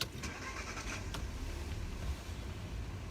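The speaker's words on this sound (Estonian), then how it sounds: "Lähen auto käima." A car engine cranks and catches at a harbour where border guards and police are working, then runs on at a steady, fairly close idle for a few seconds with no talk over it.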